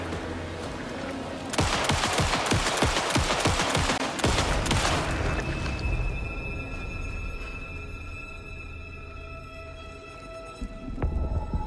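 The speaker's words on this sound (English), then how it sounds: "Shoot your gun" Gunfire in Alan Wake 2 erupts as a loud, dense flurry of rapid shots lasting a few seconds, then fades into a low hum and ringing tones with a late thump near the end.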